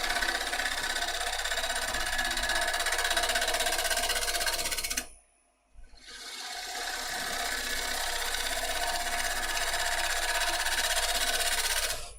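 A gouge cutting a piece of unknown wood on a lathe gives a continuous loud scraping, whirring rasp, briefly dropping out in the middle before resuming steadily.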